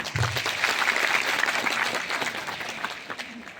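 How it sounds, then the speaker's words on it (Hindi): Audience applause at a business event, dense clapping from a crowd, loud and sustained throughout with faint voices mixed in. "एक बार जोरदार ताली।"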